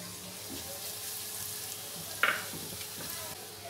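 Pizza sauce being mixed and fried in a pan, a low steady sizzle with faint stirring scrapes and one brief sharp clink partway through, quiet and continuous without speech.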